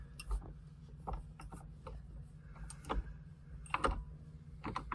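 Steering wheel of a Mazda MX-5 ND turned counterclockwise off its shaft after the locking mechanism is broken: soft close mechanical clicks and ratcheting ticks over a low steady hum, faint and irregular.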